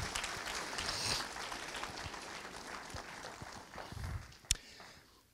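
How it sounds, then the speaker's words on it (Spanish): A church congregation applauds during a Sunday Spanish-language service, a steady wash of clapping that runs throughout and thins toward the end, with one sharp knock near the close. "Un aplauso para el Señor y para su palabra"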